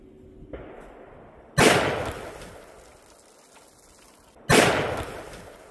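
Two sharp, loud gunshots from a very cheap gun fired outdoors in mild weather, spaced about three seconds apart, each a sudden crack with a decaying tail and no talking in between.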